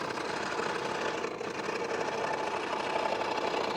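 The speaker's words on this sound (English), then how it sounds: "it's having no trouble getting through this half-inch plywood" A saw fitted with a 16 TPI blade cuts steadily through half-inch plywood, a continuous buzzing, rasping whine held at even loudness throughout the short stretch.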